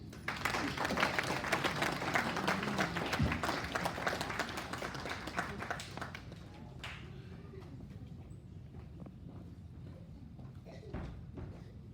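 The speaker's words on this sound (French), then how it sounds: "Applaudissez." A church audience bursts into applause, the clapping dense and fairly loud at first, then thinning and fading toward the end amid scattered thumps and murmuring voices.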